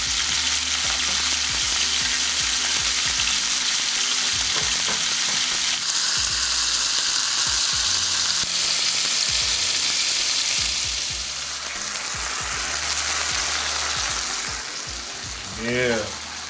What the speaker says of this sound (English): When you place meat down, it needs to be sizzling.